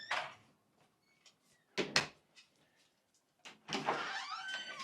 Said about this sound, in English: So you open the door.